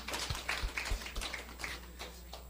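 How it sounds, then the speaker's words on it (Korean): A church congregation gives a faint, evenly paced round of claps, several distinct hand strikes in a steady rhythm that soften toward the end in a quiet hall. "박수."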